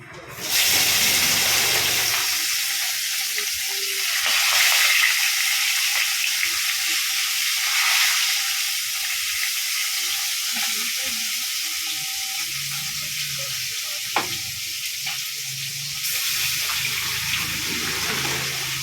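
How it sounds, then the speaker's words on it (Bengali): A medium rohu fish head, rubbed with salt and turmeric, frying in hot oil, a loud, steady crackling sizzle that starts abruptly and holds evenly, with a few faint clinks underneath. "তেলটা আমি গরম হতে দেবো, তারপরে আমি মাথাটা আগে ভেজে নেব।"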